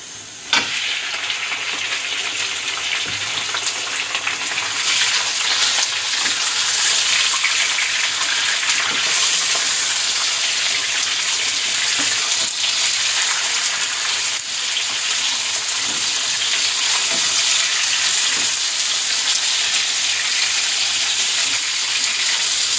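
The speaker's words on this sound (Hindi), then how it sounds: "हमारी प्याज लाइट ब्राउन हो चुकी है। अब मैं इसमें चिकन का ऐड करूँगी।" Chicken pieces dropped into light brown onions frying in a pot for spicy chicken biryani, a loud, continuous sizzle with a sharp onset and occasional stirring clatter, no talking.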